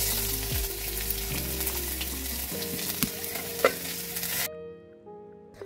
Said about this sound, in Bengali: চিংড়ি মাছের মাথাগুলো ভেজে সুন্দর করে রেখে দিচ্ছিলাম।